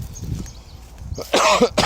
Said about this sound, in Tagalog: Inuubo na tuloy ako sa inyo.